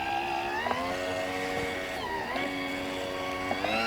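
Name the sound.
Caldwell Target Turner motor running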